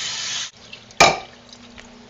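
Hot water poured into a bucket of borax, washing soda and soap, a steady close splash that cuts off, then a sudden slosh and gurgle with faint clinks in the quiet afterward.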